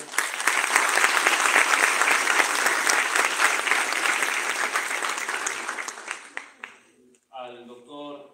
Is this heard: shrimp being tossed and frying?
no